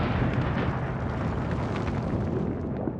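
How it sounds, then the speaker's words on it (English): Deep, sustained rumbling roar from the 1986 Space Shuttle Challenger explosion over Florida, a loud, continuous low-heavy blast that holds steady for about three seconds with no talk. "an explosion lit up the Florida sky"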